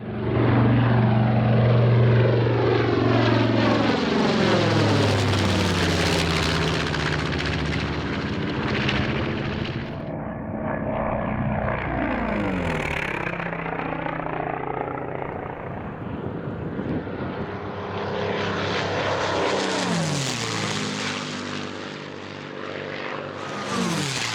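Loud aircraft engines and propellers roar through a sequence of low passes over St Barts, with the pitch rising and falling as planes approach and sweep by, sustained throughout with no voices.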